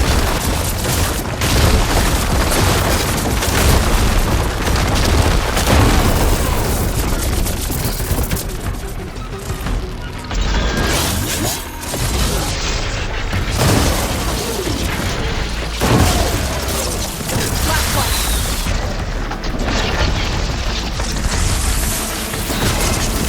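Ballista shots and explosions in the video game Horizon Forbidden West during a fight with a large machine: loud, dense booms and heavy impacts with rumbling blasts that keep going throughout.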